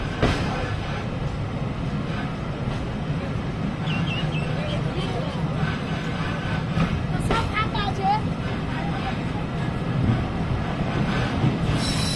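A Rajshahi–Rohanpur commuter train rumbles steadily along the rails, leaving Nachole railway station, with a continuous heavy roar and occasional wheel squeals and clatter, close by throughout.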